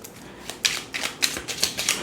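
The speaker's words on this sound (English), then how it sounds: "I will go ahead and shuffle the cards" A deck of oracle cards is shuffled up close in a run of quick riffling bursts, about six crisp flutters in a row.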